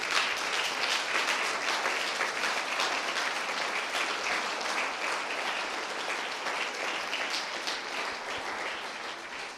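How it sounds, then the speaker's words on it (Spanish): Sustained applause from a church congregation during a sermon at Iglesia Betania in Huauchinango, dense steady clapping filling the room for the whole stretch with no voices on top, slowly easing slightly toward the end. "Dele un fuerte aplauso a Jesucristo."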